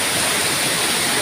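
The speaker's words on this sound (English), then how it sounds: "so actually this is the 7th Waterfall and it's in Mambercow." The seventh waterfall on a mountain in Mambercow, Philippines, heard up close: a loud, continuous rush of falling water filling the whole short moment with broad, even hiss and no voices.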